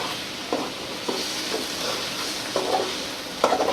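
Bitter gourd (karela) frying in a pan in a village kitchen, a steady hissing sizzle with a few soft stirring scrapes at intervals.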